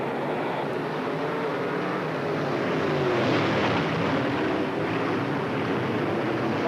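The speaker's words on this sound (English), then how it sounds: "Throttles revving, hearts are pounding. Here they go." Race cars at East Moline Speedway roar together in a dense, continuous engine drone that swells slightly midway, sustained and fairly loud with no speech over it.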